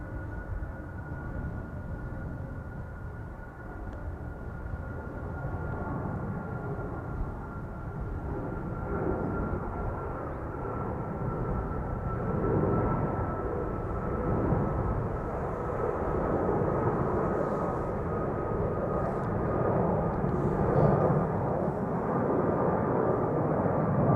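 A steady jet roar fills the air at Amsterdam Schiphol Airport as aircraft, including Embraer 175s, move out toward the Polderbaan, a broad continuous rumble from a distance with a faint whine above it and no talking.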